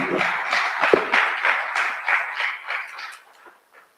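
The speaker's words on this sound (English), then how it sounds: "Round of applause." A conference audience at an Africa dairy innovations summit gives a round of applause. The dense, even clapping is moderately near and fades out over about four seconds.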